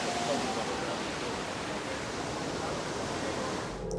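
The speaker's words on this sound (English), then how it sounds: "Beautiful waterfalls." Waterfalls in the themed Flight of Passage queue at Disney's Animal Kingdom give a continuous broadband rush of falling water, steady and enveloping, with faint crowd murmur underneath.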